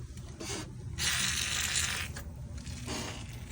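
A rusty, stuck car hood latch, soaked with PB Blaster penetrating oil, is worked up and down, making scraping, grinding rubs in several close bursts with short pauses between them.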